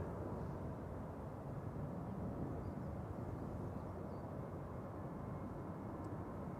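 A Boeing 737-700 taking off at Amsterdam Schiphol, a steady broadband engine roar that holds evenly throughout without talk.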